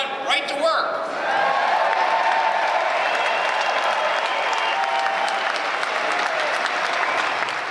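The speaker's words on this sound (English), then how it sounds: "there'd be all this applause" Applause and some cheering from the audience at the Michigan Republican State Convention in the Lansing Center, a brief voice at the start giving way to steady, full crowd clapping that carries on evenly.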